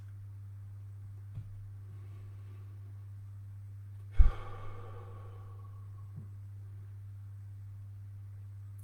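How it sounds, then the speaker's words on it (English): A single deep breath exhaled through the mouth during a guided breathing meditation, a soft, breathy sigh heard once, close, over a steady low hum. "and exhale through your mouth."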